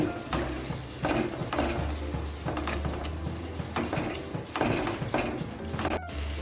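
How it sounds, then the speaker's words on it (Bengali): Onion paste, ginger and garlic sizzle as they are sautéed and stirred in a pan, with a steady hiss broken by repeated scraping strokes of a spoon, close up. "এখানে পেঁয়াজ আদা রসুন এক মিনিটের মতো কষিয়ে নিচ্ছি"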